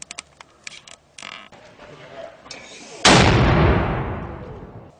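A homemade mortar cannon fires once at a checkpoint, a single loud, close blast about three seconds in that rings out and decays over the next two seconds, after fainter sharp pops and shouting voices in a combat setting.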